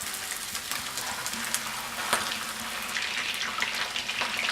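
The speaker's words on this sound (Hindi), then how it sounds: "पैन में हमने हाफ कप ऑयल गर्म किया है, इसमें हम कबाब शैलो फ्राई करेंगे।" Seekh kebabs shallow frying in half a cup of hot oil in a pan, giving a steady, soft crackling sizzle with scattered small pops throughout.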